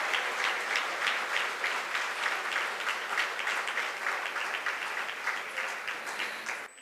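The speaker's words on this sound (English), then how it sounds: "They truly deserve a big round of applause today" An audience at a pre-primary school's annual morning concert applauds the children's Disney-themed performance, a steady, full round of clapping that holds for several seconds and fades at the end.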